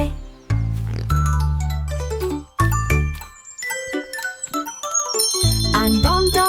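Bells ring out in a bright, tinkling nursery-song melody, with chime-like notes struck in quick succession over a deep bass line and no voice.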